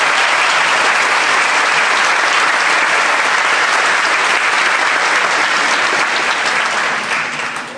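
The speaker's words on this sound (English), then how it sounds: "Give ourselves a big round of applause." Sustained loud applause from a graduation ceremony audience at a New York middle school, dense and steady throughout, tapering slightly at the end.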